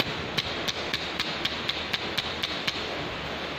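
Telescope mount struck hard during a vibration test, giving a rapid run of about a dozen sharp metallic taps at an even rhythm over a constant broadband hiss.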